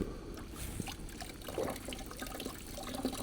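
Water runs out of a hose on a home emergency water system, a steady close trickle and splash that holds fairly even throughout with no talking.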